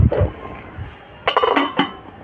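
A lid set onto a pan of rupchanda fish cooking with raw mustard oil, a few close metallic clinks and clatters, soft at first then a brighter cluster of knocks near the end.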